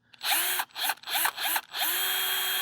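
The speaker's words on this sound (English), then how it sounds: "this is a reverse drill bit" A reverse drill bit bores into a stubborn bolt on a Mercedes GLS63 AMG, the power drill whining loudly in four short bursts and then one steady run, with no talking.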